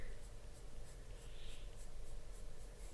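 A Polychromos colored pencil scratches across paper with light pressure, a soft, close, continuous rasp with faint rhythmic strokes, no talking.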